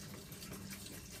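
RV antifreeze pours from a container into a drain, a continuous faint gushing and splashing of liquid with no talk.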